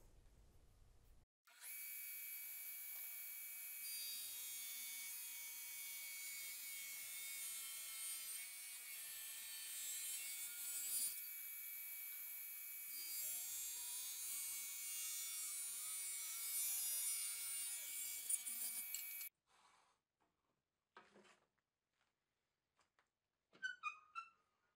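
A power saw cuts a scrap 2x4 wood board to length. A steady high motor whine runs for about eighteen seconds, then stops abruptly, followed by a few quiet clatters and light knocks in an otherwise quiet workshop.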